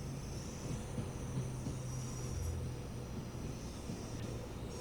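A Class 390 Pendolino electric train in Train Sim World 5 rolls into London Euston on the West Coast Main Line, with a steady low rumble and hum of running gear and faint high whine, continuous and close.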